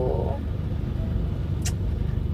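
Congested street traffic with jeeps and buses, a steady close rumble of idling and creeping engines with a brief high squeal, no talking.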